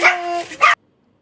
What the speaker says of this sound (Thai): ไม่ให้หมาเห่าอ่ะ